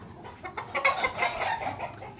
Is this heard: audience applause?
no